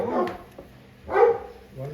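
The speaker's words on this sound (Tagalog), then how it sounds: "Ang ingay na aso." A dog barks twice, about a second apart, each a short, moderately loud bark heard nearby during an indoor card game.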